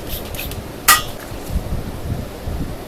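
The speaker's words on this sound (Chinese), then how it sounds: "那我先進行瓶子的清洗" A plastic spray bottle, being cleaned before it is refilled with isopropyl alcohol, gives one sharp clink, followed by softer knocks and clatter at close range.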